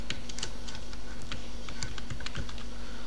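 Keys clatter on a computer keyboard as a single word is typed into a Microsoft Word document, a quick run of close, crisp clicks over a steady low hum, with no voices.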